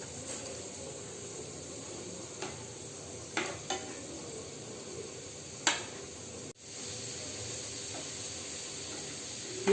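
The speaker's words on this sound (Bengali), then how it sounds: "তেল দিয়ে ডুবো তেলে ভাজবো" Chicken donuts deep frying in oil, a soft steady hiss of bubbling oil with a few sharp clicks and utensil taps, fairly quiet throughout.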